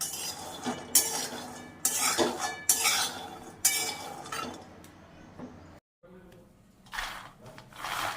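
A metal spoon stirs and scrapes around a hot kadai while a sweet prasad is cooked, giving steady clanking strokes with a brief silent break, close and clear, with a voice speaking at times.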